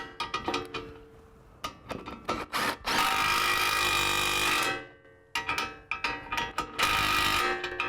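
Ball joint nuts tightened on a car's front suspension with a power tool, in short bursts and one long sustained run, close and fairly loud with clicks between.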